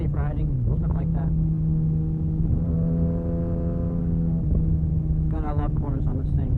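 Kawasaki ZX-6R motorcycle engine droning steadily while riding through corners, its pitch rising and falling with throttle under continuous wind noise, heard from the rider's position.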